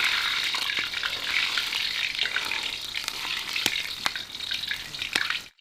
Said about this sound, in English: Do you hear how the oil is already sizzling?